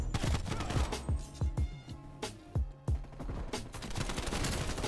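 AK-74U rifle fire in a first-person shooter game comes in rapid, punchy bursts with short gaps between volleys, loud and close throughout.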